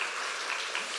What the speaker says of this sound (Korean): 다 같이 하나님께 박수 한번 칠까요?